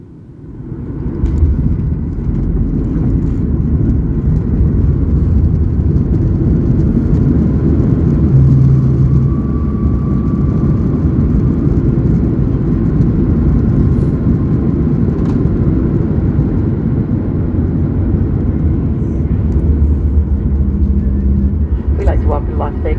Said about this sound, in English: We're landing on runway 26L, 26 Lima, here in Las Vegas.